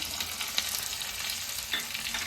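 Chopped onion frying in oil with mustard seeds and cumin, a soft steady sizzle with faint crackles and a few stirring scrapes, no voices.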